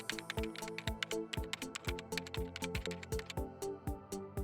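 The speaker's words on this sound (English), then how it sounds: "Mechanical keyboards can be a bit of a niche item. Not everybody likes the noise they make." Typing on an 8BitDo Retro Mechanical Keyboard, a steady run of loud, clacky keystrokes close up, with sharp repeated clicks and deep bottoming thuds and no talk.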